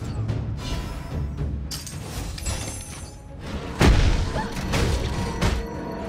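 A turret blows up in Honor of Kings mobile gameplay: a sharp, loud booming crash lands midway through, trailed by smaller thuds over busy game sound effects.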